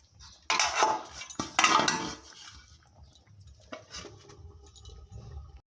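A lid goes onto a pot of thin rohu fish curry, making a pair of loud metallic clanks and scrapes, followed by a softer clink and a quiet bubbling simmer.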